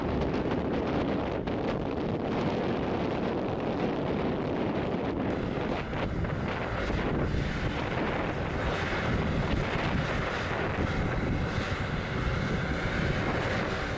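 Strong, steady wind roars and buffets the microphone throughout, a dense continuous rush with no let-up, around a heavy 80,000-pound truck climbing a hill on a dangerous road.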